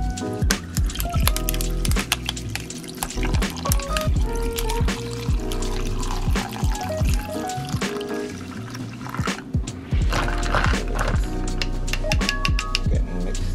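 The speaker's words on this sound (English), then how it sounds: "Then I pour my iced coffee." Iced coffee pours into a cup over ice, giving a busy run of liquid splashes and clinks with sharp ticks and gurgles, close and fairly loud, and no talking.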